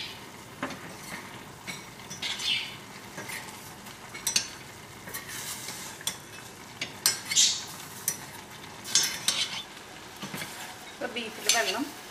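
Kerala-style beef frying in a pot, a low steady sizzle punctuated by repeated scraping stirs and metal utensil clinks against the pan at irregular intervals.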